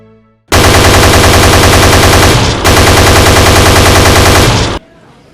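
Loud, rapid automatic gunfire from a historical film scene about the G30S events in Indonesia, fired in two long continuous bursts with a brief break between them, then cut off abruptly.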